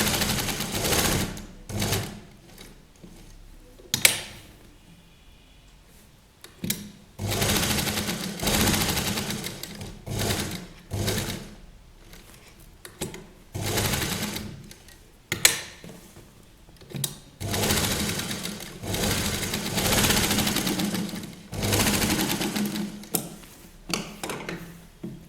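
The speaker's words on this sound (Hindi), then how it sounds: "फिर आप मशीन की सुई को अंदर रखिए, फुट उठाइए, टर्न हो जाइए और वापस फुट को नीचे रखकर सिलाई लगा लीजिए।" A sewing machine stitches fabric for a children's Patiala dress, a loud rapid mechanical whirring in repeated runs of a few seconds each, separated by short quiet pauses and clicks as the work is turned.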